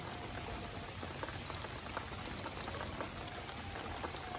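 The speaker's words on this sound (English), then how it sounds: "So today I'm dealing with the rain." Rain falls outdoors where a chicken run is being built, a soft, even hiss of drops with occasional heavier patters, steady and fairly faint throughout.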